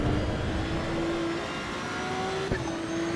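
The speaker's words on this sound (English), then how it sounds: "listen to the sound of the Ford" Ford race car in Assetto Corsa EVO, its engine droning at a steady pitch with a faint higher whine and one brief gear-shift blip near the end, heard from the cockpit over constant road and track noise.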